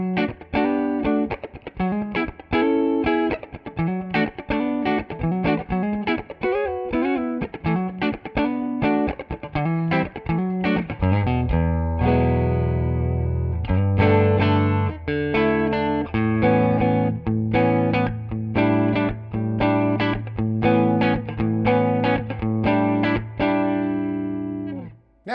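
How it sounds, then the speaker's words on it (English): An electric guitar on its front pickup, a Dave Murdy Comanche, plays a loud, full run of quick picked notes that gives way to sustained ringing chords and more picking, with no voices. "Or just the straight, full-out sound of the front pickup."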